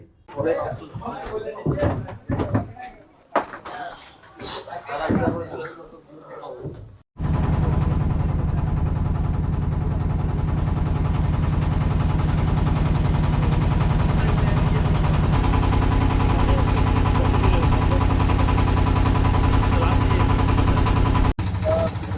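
A hired country boat's engine starts up after some knocks and clatter, then runs as a loud, steady drone close by for the rest of the ride.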